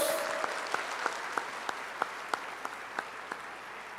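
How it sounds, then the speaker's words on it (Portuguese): A church congregation applauds steadily, a broad wash of clapping with a regular rhythmic beat of sharper claps cutting through, moderately loud and without speech. "E se você crê, pode aplaudir para valer esse Senhor, esse Deus."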